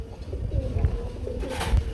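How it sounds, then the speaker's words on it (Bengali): Pigeons coo in low, soft throaty pulses, close by, with faint background noise and no clear speech. "জলিল ভাই খুবই খুবই খুবই সুন্দর একটা পেয়ার দেখতে পাচ্ছি গো ভাই মাশাল্লাহ মুখি কবুতর"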